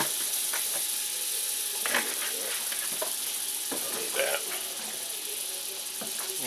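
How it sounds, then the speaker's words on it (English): Butter sizzles in a hot pan as squash is about to be cooked, a steady bright hiss and crackle running throughout with occasional clinks, while a person speaks over it. "Just going to add a little bit more butter to the pan so I can start to cook my squash."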